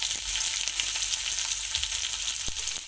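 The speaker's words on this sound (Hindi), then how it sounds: "अदरक लहसुन को थोड़ा सा भूनना है, और साथ ही में मैं हरी मिर्ची डाल दूंगी।" Ginger, garlic and green chillies fry in a hot pan for a cabbage snack, a steady close sizzle with brief stirring scrapes and no talk.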